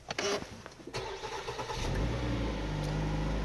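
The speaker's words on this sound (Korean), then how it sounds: "시동 한번 걸어볼게요." A few clicks, then a Jeep Compass gasoline SUV engine cranks and catches, settling into a steady, smooth idle nearby.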